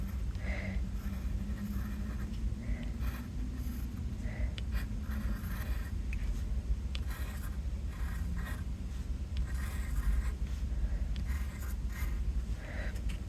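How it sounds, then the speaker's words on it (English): A pencil writes on a watercolor hearts card with a steady, soft scratchy rasp, close up and continuous throughout, with no voices. "I can just go in with my pencil."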